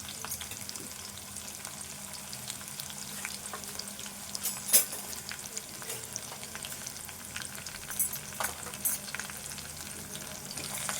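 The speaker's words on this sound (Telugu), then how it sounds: "ఇది ఇప్పుడు వేగదాకా కలుపుకుందాము" Potato fry with green chillies and turmeric sizzles steadily in a pan while a utensil stirs and scrapes through it, with a few sharper clinks against the pan over a constant, fairly quiet frying hiss.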